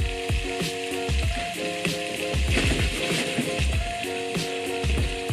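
Potatoes fry in a hot pan for a breakfast dish, giving a loud, steady sizzle and crackle that runs without a break, with a few stirring scrapes.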